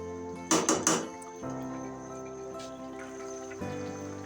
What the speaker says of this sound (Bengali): তো মাছগুলো দিয়ে আমি একটু উল্টিয়ে দিচ্ছি।